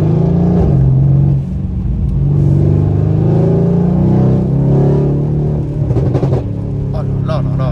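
A Mercedes C63 with a stage 2 tune revs loudly nearby, its deep engine roar rising and falling in sustained pulls, with brief voices over the end.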